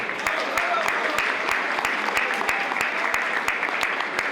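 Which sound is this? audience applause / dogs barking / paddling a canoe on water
audience applause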